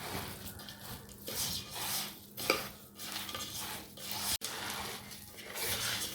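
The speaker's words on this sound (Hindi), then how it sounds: "अब इनको अच्छी तरह मिक्स करते हैं तमाम चीज़ों को शीरे में।" Ingredients being stirred into jaggery syrup for sweet laddoos, a steady rubbing, scraping stir with soft rhythmic swishes and occasional utensil contact, close and fairly quiet with no talk.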